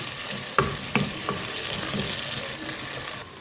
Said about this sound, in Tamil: 2 தக்காளி கட் பண்ணி வச்சுருக்கேன், அதையும் போட்டு எல்லாமே நல்லா வெந்து வரணும்